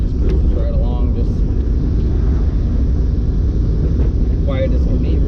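A Mazda MX-5 cruises up through first to fourth gear, its engine a loud, steady low rumble with wind noise throughout, while a voice talks over it.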